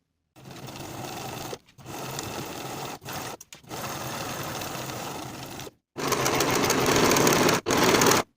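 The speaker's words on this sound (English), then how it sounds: "Sew the inner leg seams with a 5/8 inch seam allowance and finish the raw edges." A sewing machine runs in steady whirring bursts while stitching the inner leg seams of women's pants, stopping briefly several times, with a louder, harsher final stretch; close, no talking.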